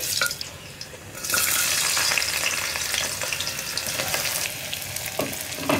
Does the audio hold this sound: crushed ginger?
yes